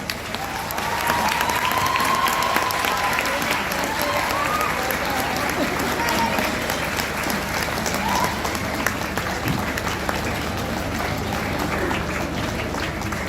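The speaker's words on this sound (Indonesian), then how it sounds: "berikan tepuk tangan yang paling hangat dari kita semua" Graduation ceremony audience giving warm, sustained applause to their teachers, a dense, even roar of many hands clapping that fills the room for several seconds, with faint voices mixed in.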